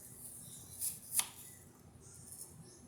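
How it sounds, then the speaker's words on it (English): A knife slices Granny Smith apples into thin pieces with two quick, faint cuts close together, then a quiet stretch. "we just slice these up in little slices like this here"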